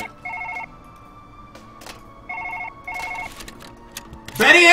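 Telephone bell ringing in repeated double bursts with short pauses between rings, fairly close and clear, with scattered clicks and a louder burst of noise cutting in at the very end.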